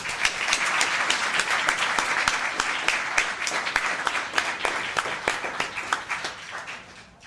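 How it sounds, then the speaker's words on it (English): Town council meeting audience giving a round of applause, dense clapping that holds steady and then thins into scattered individual claps as it fades. "Let's give them a round of applause."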